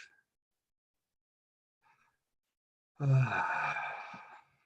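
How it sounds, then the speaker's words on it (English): One slow, deep breath drawn near a quiet microphone and let out as a long, soft sigh after near silence, with a faint brief sound beforehand. "just take a deep breath"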